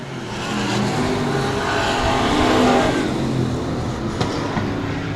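Race cars run side by side around the Cotton Bowl Speedway oval, their engines a loud, continuous, broad roar that swells and holds steady as they pass through a turn, with no voices.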